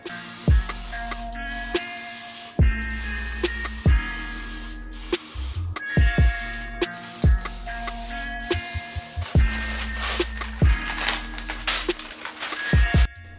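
A campervan being spray painted, with repeated short hissing bursts from the spray can separated by brief pauses and close clicks of the nozzle.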